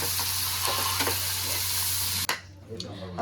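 Onions and tomatoes sizzle and fry in a pan for paneer gravy, a dense close crackle lasting about two seconds before cutting away to quieter room sound with faint clatter.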